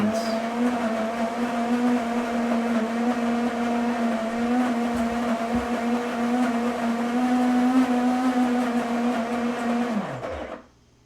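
A coffee machine grinds beans with a loud, steady motor whine close by, holding an even pitch for about ten seconds before winding down and stopping.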